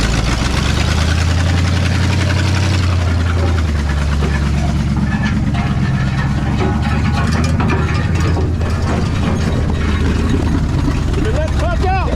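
A 1968 Ford F250 pickup with a freshly installed 360 FE V8 runs up close, a deep rumbling drone with rattling, clattering mechanical noise and a dragging muffler as the clutch is let out, with people talking over it.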